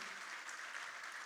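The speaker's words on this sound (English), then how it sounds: "A big round of applause" Faint applause from a crowd, a steady patter of clapping heard at a distance throughout the short clip.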